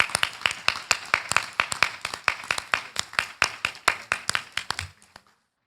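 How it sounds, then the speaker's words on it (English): A conference audience at the 2019 Beacon College Symposium on Learning Disabilities claps for Darrell Owens: a steady run of sharp, close handclaps in a quick, even rhythm that thins out and stops abruptly after about five seconds. "I think he needs a good round of applause"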